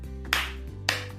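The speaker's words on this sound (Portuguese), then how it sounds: "palmas, tá? Bater palmas." Two sharp hand claps, spaced about half a second apart, ring out over a steady musical backing in a rhythm game.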